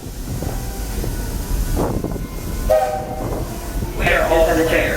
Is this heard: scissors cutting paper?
no